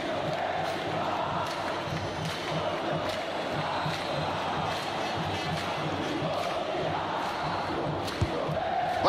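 A stadium crowd at a Fortaleza versus Cerro Porteño Libertadores football match, a broad steady roar of many voices swelling with jeers and shouts, distant and continuous throughout.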